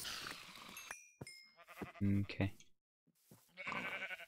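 Sheep bleat in a Minecraft meadow, two or three short, wavering bleats close by in the middle of the stretch, with people talking before and after and a brief spoken word in between.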